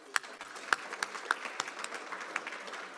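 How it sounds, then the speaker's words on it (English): Faint, sparse applause from a small audience at a school-related presentation, scattered individual claps rising and fading over a few seconds. "Another round of applause."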